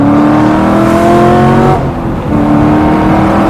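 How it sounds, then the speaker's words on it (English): An LS3 V8 in a Mazda Miata ND at full throttle, engine pitch climbing steadily in a loud, close roar, a brief dip at a shift, then rising again. "Okay, I floored it there."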